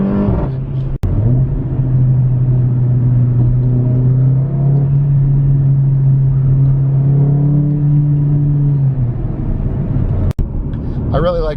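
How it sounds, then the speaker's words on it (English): Mercedes GLA 45 AMG accelerating hard from inside the cabin, a steady engine drone rising in pitch across several seconds, loud and continuous, with faint talk in the background. "Just do a little acceleration."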